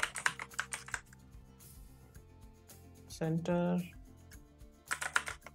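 Computer keyboard typing comes in quick bursts of close, crisp keystrokes, pausing while a person speaks briefly in the middle.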